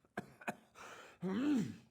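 Two short, sharp coughs, then a groaning, throaty vocal sound that rises and falls, quiet and close, from the video game Elder Scrolls Online.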